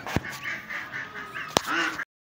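Ducks and ducklings honk and quack in a pen shared with hens, with repeated nasal calls at close range, two sharp knocks standing out and a brief silence near the end.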